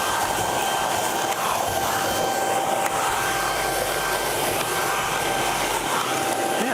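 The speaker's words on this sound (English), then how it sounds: "I just love the form factor of this vacuum because it's very small and compact" Small compact vacuum cleaner running continuously, a loud steady whooshing roar with a thin high motor whine, close by and alone without speech.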